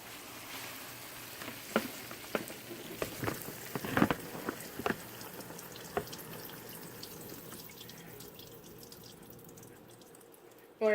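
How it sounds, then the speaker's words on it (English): Cooked ground meat and softened onions are drained in a sink, giving a faint, steady watery patter with scattered drips and splashes. "We're going to drain it. I drain it in my sink, unfortunately."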